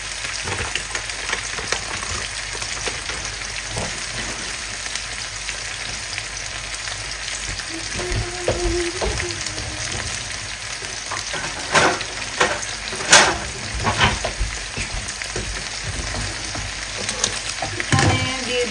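Okra frying in a pan, a steady close sizzle running throughout with occasional sharper pops and stirring clatter, no one speaking.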